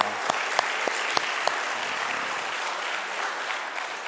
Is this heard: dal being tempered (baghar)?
no